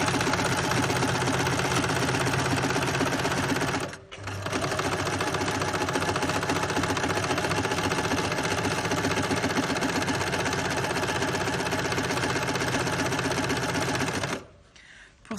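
A sewing machine stitches fabric for a gift bag, running loud and steady with a fast mechanical rhythm, pausing briefly near four seconds, then running on until it stops just before the end.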